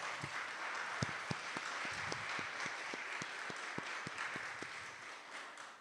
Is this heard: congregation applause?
yes